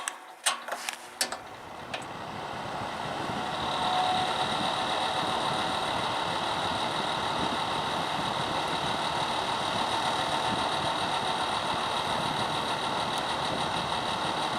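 An Optimus electric space heater is switched on with a few clicks, then its fan settles into a steady, moderately quiet whirring hum that runs without a break.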